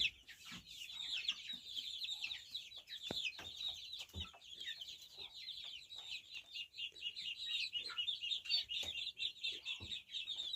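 A flock of chicks cheeping continuously in high, overlapping peeps, close by, with occasional soft clucks and rustling underneath.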